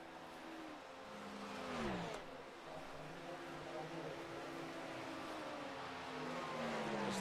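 A Cadillac prototype race car in the iRacing sim at the Rolex 24 at Daytona screams at high revs, holding a loud steady engine note with a sharp downshift and pitch drop partway through before building again.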